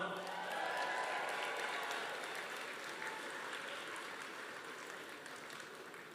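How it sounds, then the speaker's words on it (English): An audience at a Mayo supporters' evening applauds a ticket winner in a draw, a dense, even wash of clapping from many hands that holds steady and slowly fades, with no speech over it. "Big round of applause for this lady coming up."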